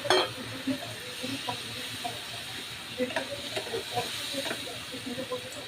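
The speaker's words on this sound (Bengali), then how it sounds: "এটা আমার মশলার পানিটুকু দিয়ে দিলাম।" Spice paste for a raw-banana kofta curry hisses and sizzles softly in a pan after spice water is poured in, with faint stirring scrapes and a bright burst at the start.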